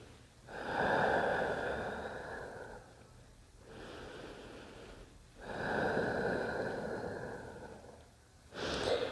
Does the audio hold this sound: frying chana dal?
no